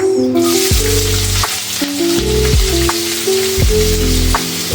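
Chopped onion sizzles loudly in hot mustard oil, with a steady close frying hiss and repeated stirring scrapes and bumps at a regular pace.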